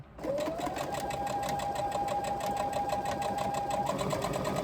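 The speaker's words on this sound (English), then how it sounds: "We are going to top stitch each side of where we folded this." A sewing machine top stitches along the folded edge of a crossbody bag strap, running in one steady, close, continuous burst after a brief pause at the start.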